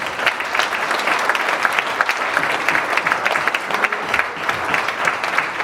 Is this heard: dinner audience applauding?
yes